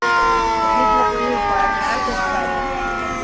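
A loud, close alarm siren sounds in Sri Vijaya Puram on the Andaman Islands. Its steady, harmonic wail bends slightly in pitch and eases a little toward the end, set against faint background noise.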